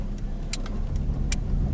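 Nissan Primera car driving on a road with steady engine and road noise throughout, a continuous low rumble with a few brief light clicks or rattles inside the cabin.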